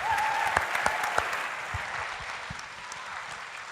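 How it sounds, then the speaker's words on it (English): An audience claps in sustained, dense applause for a panel in a hall, with a few sharper individual claps early on and the sound slowly tapering off. "give us one last round of applause for the panel"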